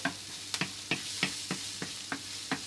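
Onions fry softly in a pan under a faint sizzle, punctuated by a regular series of sharp spatula taps and scrapes about every third of a second.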